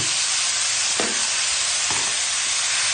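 Mushrooms hitting a hot pan with other ingredients in a countryside home kitchen, giving a steady loud sizzle and frying hiss. Two short stirring scrapes break through partway, and no one speaks.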